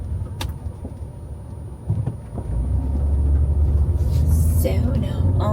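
A car drives along the road with a steady low rumble of engine and tires that swells and gets louder partway through. A few knocks and clicks are heard inside the cabin.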